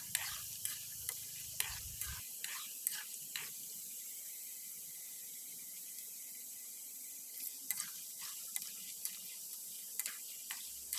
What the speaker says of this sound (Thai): จากนั้นก็คนหม้อค่ะ คนเรื่อยๆค่ะ เพื่อให้กล้วยของเราสุกอย่างทั่วถึงนะคะ